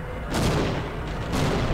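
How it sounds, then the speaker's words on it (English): Two heavy explosion blasts in the Half-Life 1 mod Timeline 2 Iced Earth, a shooter game, each a loud broadband boom with a rumbling tail, roughly a second apart. "Why is there an explosion?"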